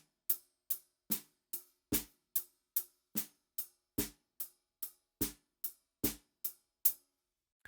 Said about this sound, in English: if we just play the ghost notes from 52